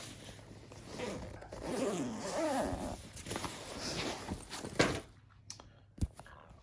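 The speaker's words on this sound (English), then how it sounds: "All right, so a couple of big zippers on the outside here. And we are going to go ahead and open this up." Big outer zippers on a Pakt backpack being pulled open, a close raspy zip sliding steadily for several seconds, ending in a few sharp clicks and taps.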